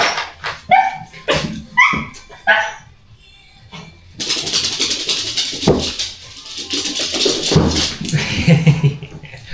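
A dog greets someone coming home with several sharp barks and high yips. They are followed by louder, busier sounds of movement and excited whimpering up close. There is no clear speech.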